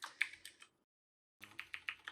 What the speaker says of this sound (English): I'm using my mechanical keyboard, so it might be a little loud.